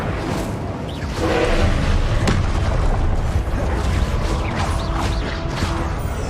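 An Incendio fire spell cast in Hogwarts Legacy, a dense continuous roaring blast with crackling bursts and booming impacts, loud and sustained throughout.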